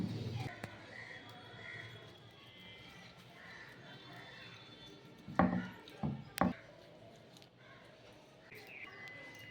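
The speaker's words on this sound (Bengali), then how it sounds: "ফুলকপি থেকে এই ডাঁটাগুলো আমি কেটে নিচ্ছি" A knife cutting thick stalks off cauliflower leaves on a board, three or four sharp close chops in quick succession after a stretch of quiet handling noise.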